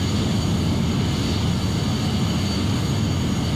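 Large airliner engines at idle thrust on landing approach with gear and full flaps down, in a flight simulator game: a steady, loud, continuous low roar and broadband rumble with a faint high whine, unchanging throughout.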